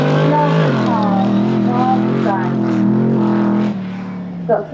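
A race car at the Goodwood Festival of Speed launches off the start line, its loud close engine rising through the revs and then dropping away. A commentator talks over it.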